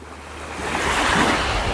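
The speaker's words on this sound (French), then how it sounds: "Vraiment dommage qu'il y ait autant de vent" Strong coastal wind buffets the microphone in a steady, roaring rush at a lagoon and salt flats in Sardinia, with surf-like noise swelling slightly over a couple of seconds.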